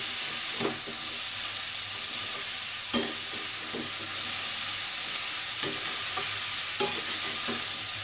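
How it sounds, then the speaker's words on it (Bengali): Cauliflower and potatoes fry in a pan with a continuous loud sizzle, while a utensil stirs and turns them with occasional scraping knocks against the pan. "এবার এটাকে জাস্ট একটু ওলট পালট করে দেবো যাতে কপিটা নিচে যায় আর আলুগুলো ওপরে চলে আসে"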